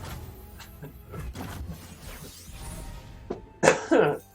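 Two sharp coughs burst out near the end, close and loud, after a stretch of quiet background noise.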